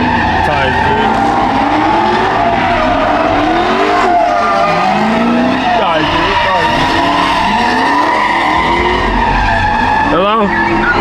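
Tires squeal loudly as a car skids and slides, sweeping howls rising and falling over a steady engine roar, close and continuous throughout, ending in a sharp scrub of rubber.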